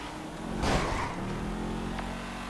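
Car engine in GTA V revving after clipping another car, a steady loud drone with a brief rushing surge as it accelerates, alone without talk.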